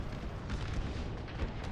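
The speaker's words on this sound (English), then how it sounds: "my artillery is starting to focus down this right side" Dense, continuous rumbling artillery fire from a Napoleon Total War battle with an American Civil War mod, cannon blasts overlapping into a steady roar at moderate distance.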